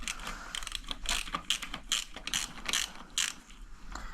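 A ratchet wrench loosens the gearbox oil drain bolt on a Honda CRF motorcycle, with quick repeated clicking ratchet strokes in short bursts, quiet and close.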